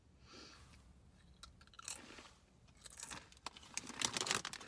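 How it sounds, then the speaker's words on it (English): Close crunching and chewing of corn, bean and quinoa crisps, quiet at first and growing louder and denser toward the end, with no talking. "bean, and quinoa crisps. Let's try them out."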